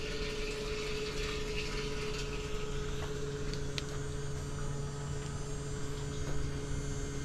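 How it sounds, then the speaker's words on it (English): A battery-powered fuel transfer pump runs steadily while filling a fuel caddy, giving a constant electric motor hum with tonal whine and faint liquid rushing, a few small clicks, heard close and alone. "The battery powered transfer pump."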